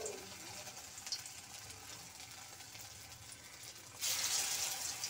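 Soybean pakoras fry in hot oil with a steady, fairly faint crackling hiss, which swells into a louder, brighter sizzle near the end as more pieces go in.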